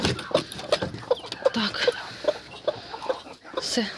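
A hen clucks repeatedly in a steady, rhythmic series of short notes, close by, with faint background noise, wanting to return to her eggs where bantam chicks have hatched.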